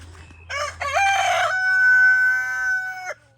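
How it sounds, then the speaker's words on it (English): A rooster crows loudly and close by in a backyard garden flock, its long drawn-out call preceded by a few short clucks from chickens, with a low steady hum underneath. "These chickens are trying to figure it out."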